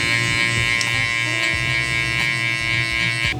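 An electric hair clipper with a guard fitted buzzes steadily and close up while fading hair, with a constant high hum and faint shifts in tone as it moves through the hair.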